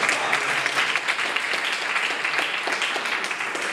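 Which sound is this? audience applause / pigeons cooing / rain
audience applause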